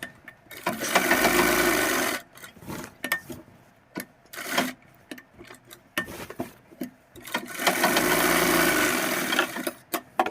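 Sewing machine stitching the waistband of men's underwear, two bursts of fast whirring stitching at the start and end with quieter handling and rustling of fabric in between, close by.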